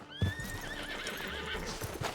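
Horse in Red Dead Redemption 2 whinnies loudly with a long wavering neigh, accompanied by soft hoof clip-clops and a snort in a woodland setting.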